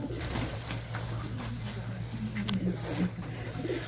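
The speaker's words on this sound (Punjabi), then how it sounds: "ਇਹ ਸਰ ਸਾਡਾ ਕਬੂਤਰ ਹੈ" A pigeon kept on a pigeon farm coos in low, soft repeated calls amid background noise and faint voices.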